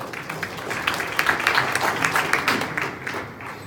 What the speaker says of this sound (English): Big applause for Stefan Horvat and Andrei Довбенко.